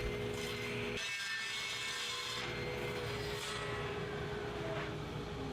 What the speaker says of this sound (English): I can measure my workpiece and line it up right with the fence instead of eyeballing with the blade, and I get a perfect cut every single time